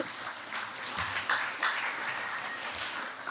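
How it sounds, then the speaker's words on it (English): A room of people applauding at a high school varsity athletic awards ceremony, steady clapping throughout at moderate distance. "Yeah, that deserves some applause."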